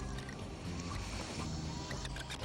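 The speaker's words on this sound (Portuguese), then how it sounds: "Este barco com motor a jato é uma das mais novas maneiras que os turistas podem vivenciar o Niágara" An aluminium jet boat with three 500 hp jet engines runs on the Niagara River, giving a continuous, even roar mixed with rushing water and wind noise, with no talk.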